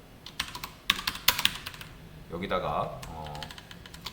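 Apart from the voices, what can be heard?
typing code on computer keyboard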